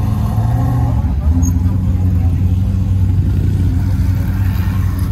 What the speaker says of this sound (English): Got some trophy trucks driving by.